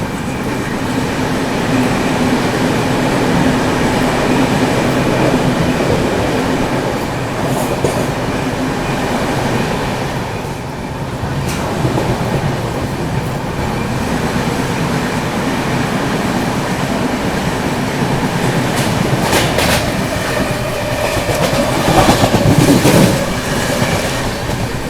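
Passenger train on the Visakhapatnam–New Delhi AP Express route running through Mancherial railway station, heard from on board as a steady loud rumble of wheels and carriages with rhythmic clatter, brief squeals and a swelling pass near the end.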